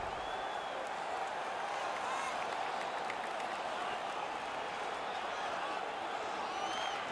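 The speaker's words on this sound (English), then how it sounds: "The crowd is all over them right now." An arena crowd roars steadily during an NHL 19 hockey video game featuring the Vancouver Canucks, a dense, continuous wash of cheering and applause.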